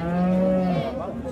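A single long, deep moo from a cow at a livestock market in Jalal-Abad, loud and close, trailing off at the end.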